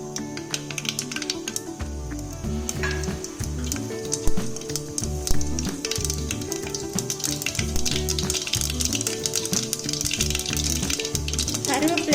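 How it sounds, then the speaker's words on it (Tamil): Mustard and fenugreek seeds crackle and sizzle in hot oil in a kuzhambu pot on the stove, a continuous fizzing spatter with small pops throughout, close and fairly loud. "கடுகு வெந்தயத்தை போட்டுடலாம்."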